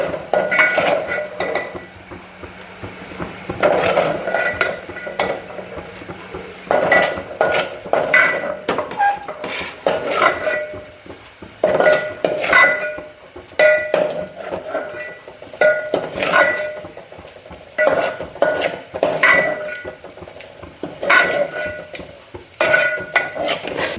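Poha is stirred together with an onion tempering, giving repeated clinks and scrapes of a spoon against a metal vessel in an uneven rhythm, close and clear, with no speech.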